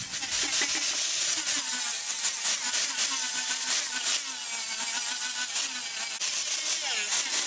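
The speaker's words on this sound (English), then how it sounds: "I'm going to go ahead and take a grinder and just clean these ends up." Grinder cleaning up the ends of a live edge wood and resin end table, a loud continuous abrasive whine with wavering pitch, close by, held steady for several seconds.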